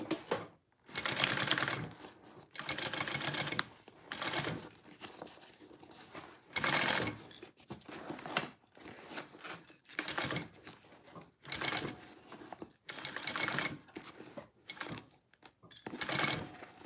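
A domestic sewing machine stitches a waterproof canvas barrel bag with interfacing in repeated bursts of rapid, mechanical chatter, each run lasting one to two seconds and separated by short pauses, close and clear with no talk.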